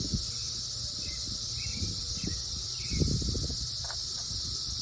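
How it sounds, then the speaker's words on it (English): A 17-year periodical cicada brood, the Bourbon brood, sings in Kentucky: a steady, dense high-pitched chorus drones continuously throughout, with faint rustling and a few brief bird-like chirps underneath. "we in Kentucky are in the middle of a giant cicada brood called the bourbon brood"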